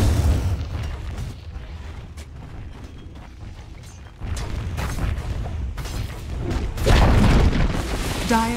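Dota 2 tower under attack and collapsing: repeated low booms and crumbling impacts over a steady battle din, with a heavier, louder burst of destruction near the end.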